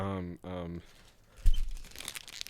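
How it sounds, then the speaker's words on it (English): A Korean Yu-Gi-Oh card pack is torn open, giving a short crinkling, tearing rustle of foil packaging after a brief stretch of talk, close to the microphone. "You're hearing the sound of a Korean Yu-Gi-Oh pack."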